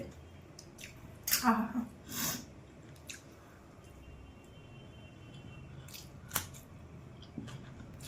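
Mutton biryani being chewed close to the mic, with soft wet squishy bites and smacking in a few short bursts, a brief sigh of pleasure among them, over quiet room noise.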